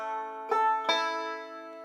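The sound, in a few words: banjo playing solo ending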